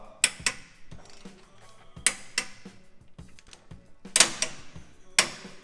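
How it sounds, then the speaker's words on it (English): A wrench tightening the steering box bolts on a Jeep Wrangler JL makes soft mechanical clicks and metallic ratcheting in short, spaced bursts, with faint clinks between them. "tighten the bolts going to the steering box at 99 foot-pounds"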